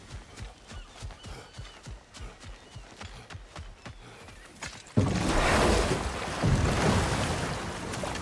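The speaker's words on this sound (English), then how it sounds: "Waterfalls. We're close." In the game God of War Ragnarok, a rhythmic trot of hoof-like footfalls sounds first, then a loud broad roar of rushing water from a waterfall swells in suddenly and holds steady.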